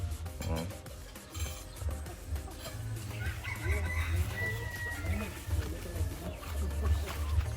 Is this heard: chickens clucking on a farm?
yes